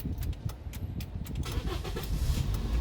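A manual Toyota Vios sits in neutral as its engine cranks and catches, settling into a steady low idle rumble, close and clear with no talking.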